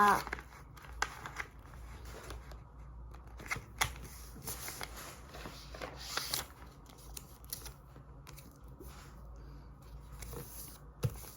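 Paper being folded into a triangle for an easy origami dog: soft crinkles, creases and scattered taps close to the microphone over a quiet indoor background, with brief pauses between handling sounds.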